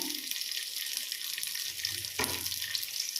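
Onions frying in oil and ghee with whole spices for mutton biryani, a steady broadband hiss of sizzling with a brief louder burst partway through, close and continuous with no talking.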